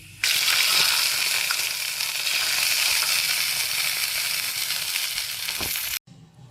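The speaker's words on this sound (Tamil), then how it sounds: "ஏலக்காயும் போட்டு தாளிச்சு கொட்டுறோம்." A steady, loud sizzle from cardamom tempering poured into sago milk payasam, a continuous hiss lasting several seconds with a faint stir, then cutting off abruptly.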